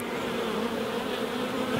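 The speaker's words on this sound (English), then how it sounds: "The bee's getting in its way." Honey bees buzz in a steady, dense drone close by while a queen is being marked in a hive, with the hum unbroken and no talk throughout.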